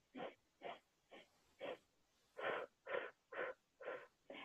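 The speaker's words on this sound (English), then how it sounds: "you breathe in for four and use your fingers to guide you. And then you breathe out for four" Slow, deliberate relaxation breathing, in through the nose and out through the mouth, heard as nine separate close breaths in a steady rhythm with short quiet gaps between them.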